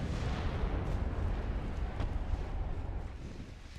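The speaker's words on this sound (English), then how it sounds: "Oh, my cruiser has just taken a massive hit. Detonation to the torpedo tubes." Cruiser's torpedo tubes detonating in the naval video game Ultimate Admiral: Dreadnoughts, a deep rumbling blast roar with dull booming low end, fairly quiet and sustained before tapering off.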